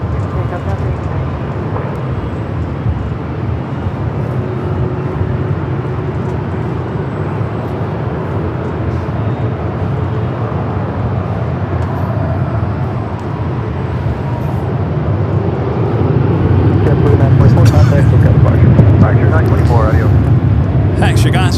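A jet airliner takes off from runway 24 left at LAX: a steady, broad engine roar that swells louder and heavier over the last few seconds as the aircraft powers down the runway.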